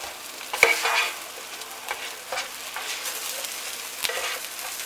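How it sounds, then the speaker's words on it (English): Smashed tomatoes mixed into frying onions in a pan, a close steady sizzle with scraping stir strokes and a couple of sharp utensil knocks, no talk. "you just smash up your tomatoes. And you mix them in with your onion."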